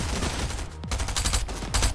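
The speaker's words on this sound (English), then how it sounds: "I hear shots, I hear shots." Gunfire in Fortnite: a quick, loud burst of several shots with sharp cracks close together, fairly near and without speech.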